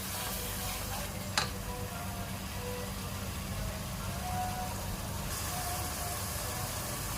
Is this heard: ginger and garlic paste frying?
yes